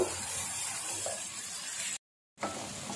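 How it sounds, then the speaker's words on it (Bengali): Garlic, onion and dried shrimp fry in oil with a steady close sizzle, broken by a short silent gap before the hiss returns. "আমি এগুলো ভালোভাবে ভেজে নিব তেলের মধ্যে, তারপর মশলা দিব।"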